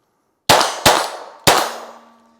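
Three Glock G44 pistol shots, each sharp crack ringing on steel man targets, the first two close together and the third after a short pause, with a metallic ring trailing after the last.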